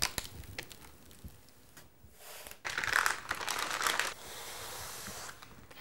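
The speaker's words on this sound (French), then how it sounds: "je vais enlever le film adhésif pour une meilleure adhérence au support." Adhesive film peeled off paint stencils, with crinkling and crackling plastic, a brief quiet gap, then a louder longer tearing peel close by.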